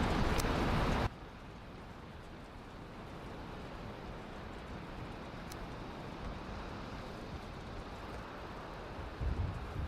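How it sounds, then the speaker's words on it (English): Steady rainfall in the video game Valheim, a dense continuous hiss of rain lasting throughout after a brief louder burst at the start, with no talking. "Yeah, that rain is loud."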